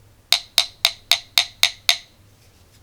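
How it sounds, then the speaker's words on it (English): Original Samsung 18650 lithium battery struck seven times in an even rhythm, each tap a bright, ringing metallic click that decays quickly, close and clear with no voices. "When you hit the original Samsung battery it sounds like this."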